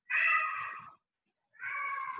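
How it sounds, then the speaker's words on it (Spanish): House cats meow twice, two drawn-out nasal cries close by, each lasting nearly a second with a short silent gap between them and no talking. "esos son los gatos de la casa"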